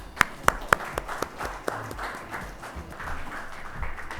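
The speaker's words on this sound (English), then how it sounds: "Let's have a huge round of applause for Mr. Rajeev" Scattered applause for a speaker at a business conference: a few sharp, distinct claps first, then softer, thinning clapping in a modest room with no talk over it.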